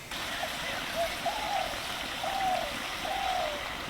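Bengali fish curry gravy simmers in a pot with a soft, steady bubbling and occasional low gurgles, faint and close, with no voices.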